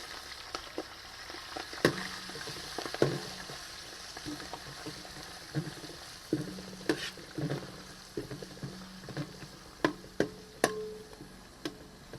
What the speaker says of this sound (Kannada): ಇದಾದಮೇಲೆ ಒಂದು ಇಡೀ ಮೆಂತ್ಯ ಸೊಪ್ಪು, ಒಂದು ಇಡೀ ಪುದೀನ ಸೊಪ್ಪು,